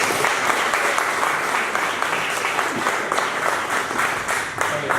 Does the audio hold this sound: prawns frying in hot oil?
no